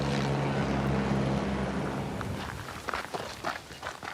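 Supply helicopters serving Mafate on Réunion make a loud, steady low rotor thrum at close range that fades over a few seconds, followed by footsteps and light rustling.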